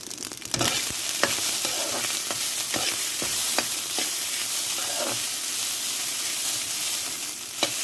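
Garlic fried rice frying in a pan, a loud continuous close-up sizzle with a bright hiss and scattered crackles and stirring scrapes throughout, no voices.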